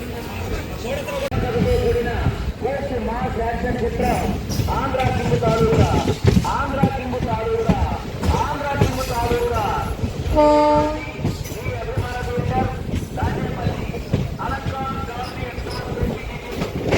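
A MEMU local train pulling out of Nadikude Junction, rhythmic clatter of wheels over rail joints with rumbling carriages heard from inside, a voice talking over it, steady and fairly loud.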